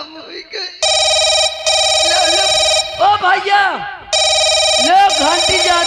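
An electronic telephone rings loudly in repeated bursts, broken by short pauses, while a person speaks briefly between the rings.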